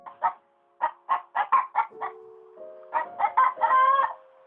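Four chickens on a small farm give a run of short, clucking bursts in two close groups with a brief pause between them, sounding fairly near, with no talk.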